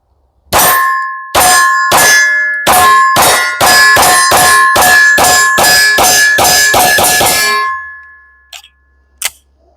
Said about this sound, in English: So I'm gonna shoot a little bit more.